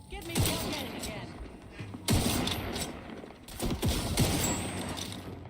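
Gunfire in the video game Outer Worlds 2 comes in several sharp bursts of shots with rattling mechanical echoes over a steady background noise.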